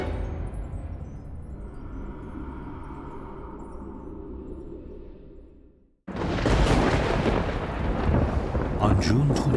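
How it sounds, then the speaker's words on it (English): A mighty thunderstorm over Milwaukee, with a long low thunder rumble that fades to near silence, then a sudden loud crack and heavy roaring thunder and rain close by. "a mighty storm hits Milwaukee"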